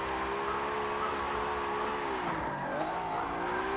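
A lower-powered Nissan R32 Skyline drifting downhill in the Forza Motorsport 7 video game, its engine droning loud and steady with shifting pitch and tires squealing through the slide.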